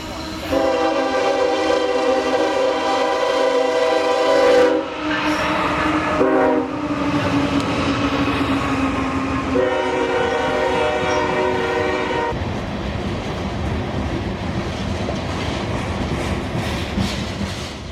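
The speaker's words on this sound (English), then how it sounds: "Soon enough, around the bend from the north comes K789." Train K789 rumbles past close by at a station near Ocala, with a long, loud horn blast sounding several times over the steady roar of the passing cars.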